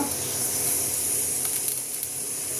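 Two dry red chillies dropped into hot oil give a steady, bright hiss and sizzle that carries evenly throughout, close and fairly loud, with no talking.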